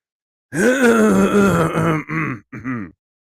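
Close, loud throat clearing and coughing: one long rough voiced rasp followed by two shorter guttural bursts, then silence.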